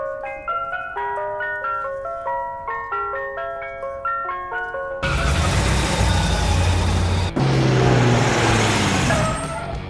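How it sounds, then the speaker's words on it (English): An ice cream truck's chiming jingle plays a bright repeating melody, then gives way to a loud vehicle engine rumble and passing road noise. "Ice cream truck."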